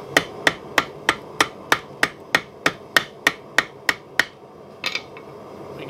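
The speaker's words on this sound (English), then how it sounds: "So now we're going to have to go and finish this thing off on the horn of the anvil." A blacksmith forging a bottle opener taps it on the horn of an anvil, about fourteen sharp, evenly spaced ringing hammer blows close by, then a couple of quieter softer knocks, with no talk.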